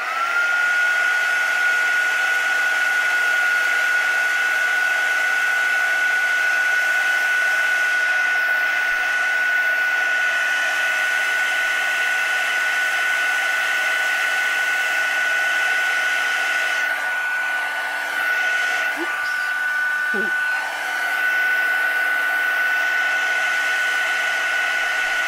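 A heat tool blows a steady, loud whirring hiss while it heat-sets stamped ink on a card. The tone stays constant throughout, with brief shifts in the airflow near the end.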